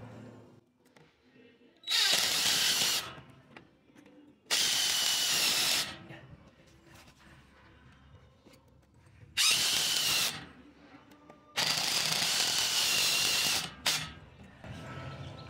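A power drill tightening screws on a plate sealed with silicone against a wall, four loud whirring bursts of one to three seconds each, separated by quieter pauses.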